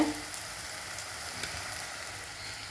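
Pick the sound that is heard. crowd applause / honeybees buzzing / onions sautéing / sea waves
onions sautéing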